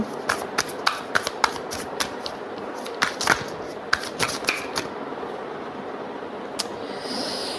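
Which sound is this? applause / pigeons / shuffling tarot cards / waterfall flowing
shuffling tarot cards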